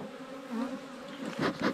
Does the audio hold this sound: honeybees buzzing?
yes